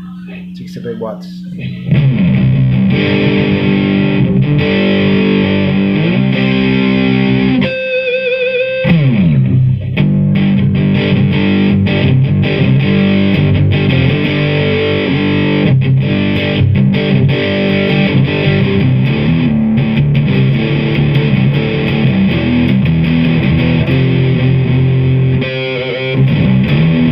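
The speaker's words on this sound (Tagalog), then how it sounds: "The distortion tone." Electric guitar played with a distortion tone through a Laney 65-watt amp, a thick, sustained overdriven sound running almost continuously at steady loudness with a few short breaks.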